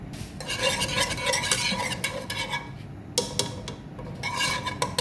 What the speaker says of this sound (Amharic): ብረት ድስታችን ላይ እንደምንጨምረው ቅቤና ትንሽ ኦሊቭ ኦይል፣ ዘይቱን፣ ትንሽ 4 ፍሬ ነጭ ሽንኩርት እንጨምርና እንጠብሰዋለን ማለት ነው